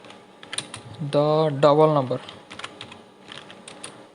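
A computer keyboard clatters as C++ code is typed, with scattered quick keystrokes before and after someone speaks in Hindi. The keys sound close and light.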